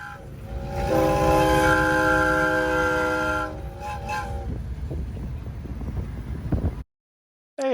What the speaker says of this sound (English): this is the device that allows your Model A to sound like a train. It's an exhaust whistle.